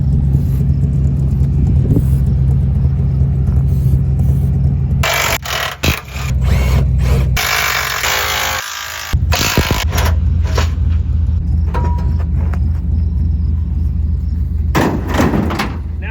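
A Chevy pickup truck of the GMT400 OBS generation runs its smoking 350 V8 loud and near, a steady low rumble broken midway by clanks and metallic bangs like a door or tools.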